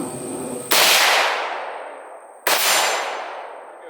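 A KS47 rifle firing 7.62x39 rounds outdoors, two sharp, loud shots about 1.7 seconds apart, each ringing off with a long decaying tail, a faint steady tone in the background.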